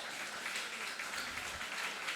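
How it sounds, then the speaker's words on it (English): An audience at an awards night for New Haven nonprofit organizations applauds, a fairly faint, steady wash of many hands clapping together without pause. "Give yourselves a round of applause."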